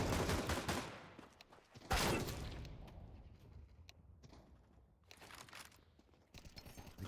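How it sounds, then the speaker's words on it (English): Sniper rifle fire in an online shooter game, with several sharp loud cracks standing out, each followed by a ringing echo that fades, plus quieter scattered shots and clatter in between. "Again with the damn sniper rifle"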